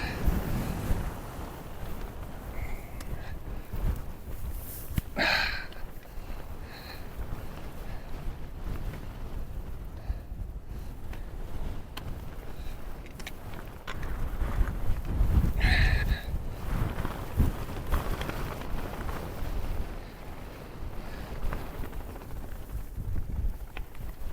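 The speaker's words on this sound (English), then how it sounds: "We got some wind up here." Wind roars across an Appalachian Trail mountaintop, a constant low rumble buffeting the microphone with gusts swelling stronger around the middle. No voices are heard.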